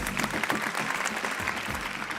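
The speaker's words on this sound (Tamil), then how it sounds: "நம்மளுடைய மூன்று லேடிஸ் ஒரு பெரிய கைத்தட்டல் கொடுத்துடலாம்" A studio audience at a Tamil television game show breaks into dense, sustained applause that carries evenly from start to finish.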